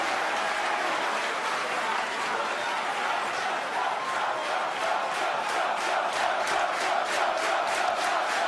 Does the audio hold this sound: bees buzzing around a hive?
no